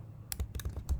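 Quick keystrokes on a computer keyboard as a docker run command is entered: a short burst of about five or six crisp clicks, close and fairly quiet, with no voice.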